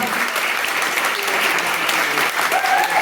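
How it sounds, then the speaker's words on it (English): Audience applauding event organizers at the Slow Soiree 2025 gathering, a dense steady wash of many hands clapping at close range, with faint voices and cheers mixed in throughout. "Give them a huge round of applause"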